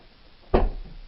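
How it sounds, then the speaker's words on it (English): A heavy door in a reputedly haunted house in Britain is forced open, giving one sudden loud thud and scrape that fades over a fraction of a second in a quiet room. "It takes an awful lot of force for me to push that door open."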